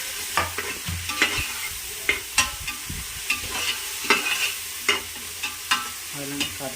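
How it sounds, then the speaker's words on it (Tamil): Ginger garlic paste and green chillies sautéing for chicken biryani, with a spoon scraping and stirring in repeated sharp strokes over a steady sizzle, close and fairly loud, no voices. "இஞ்சி பூண்டு பேஸ்ட் பார்த்திங்கன்னா பச்சை வாசனை போகிற வரைக்கும் நல்லா வதக்கணும்"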